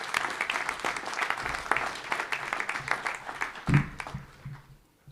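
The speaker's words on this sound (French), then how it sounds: "Et je vous remercie de les applaudir." An audience claps during a mayor's New Year address in Valgelon-La Rochette, a dense burst of applause that thins to scattered claps before dying away.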